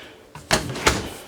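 An accordion door closes in the bathroom of a 2014 Forest River Sunseeker 3010DS Class C gas motorhome, giving two quick, fairly close clatters about a third of a second apart, with no talking.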